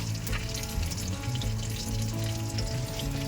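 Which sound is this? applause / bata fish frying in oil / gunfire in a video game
bata fish frying in oil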